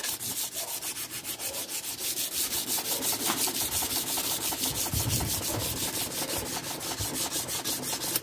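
A steady, fast-pulsing abrasive grinding runs throughout as a slow electric sander polishes a knife blade, close up with a constant rasping texture.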